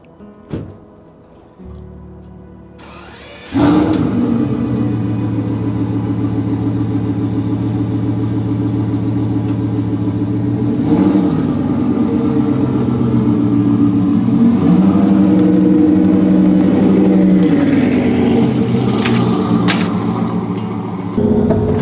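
A Bugatti Veyron's engine cranks and fires after a few quiet knocks, then settles into a loud, deep rumbling idle with several rising revs, close by.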